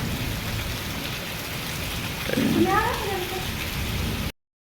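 Steady rain falling with a constant hiss throughout, and a brief meow rising over it midway.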